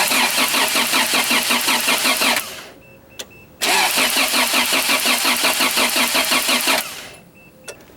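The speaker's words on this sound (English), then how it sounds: "jump in the driver's seat, crank it over a couple times on each cylinder" A Toyota Celica engine cranks over for a compression test in two loud bursts of fast, rhythmic starter chugging, each lasting a few seconds and separated by a short pause, with faint clicks in the gaps.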